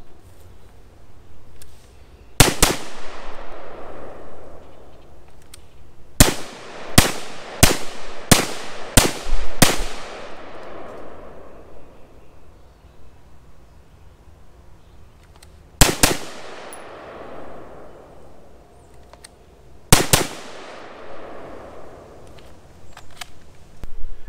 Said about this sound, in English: Let's shoot a couple transitions and shoot a couple up downs